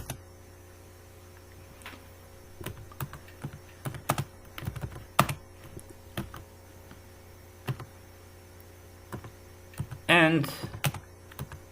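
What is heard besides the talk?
typing C++ code on computer keyboard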